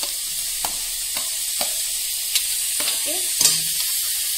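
Tomatoes frying and being stirred in a pan for senna (sickle senna) sabji, a steady close sizzle with a few scraping stirs of a spoon, no talk.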